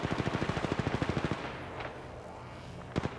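Automatic gunfire in the Apex Legends Mobile video game: a rapid, evenly spaced burst of close, loud shots for over a second, then a lull with scattered single shots.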